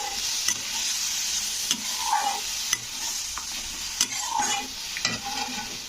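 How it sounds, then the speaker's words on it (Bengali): Oil sizzles steadily in a pan while a utensil stirs and scrapes through frying fish roe, with several sharp clinks against the pan. "এর মধ্যে আমি দিয়ে দিচ্ছি তো দিয়ে এবার এটাকে একটু নাড়াচাড়া করে দিতে হবে"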